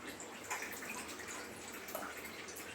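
Water trickles and splashes faintly while rinsing ground poppy seed paste with a little water, a soft steady wash with a brief louder splash at the end.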